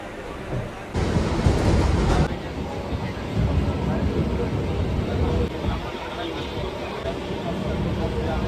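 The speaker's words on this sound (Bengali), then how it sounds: "অ্যাপসে কিন্তু দেখাচ্ছে লক্ষ্মীকান্তপুর অবধি এই ট্রেনটা যাচ্ছে" A passenger train rolls along the rails on the way to Lakshmikantapur, its rumble and clatter close and steady with a louder burst near the start, while a person talks over it.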